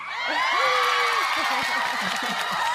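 A small audience cheers, whoops and claps as a canned sound effect, a bright continuous burst of mixed voices and applause lasting a few seconds.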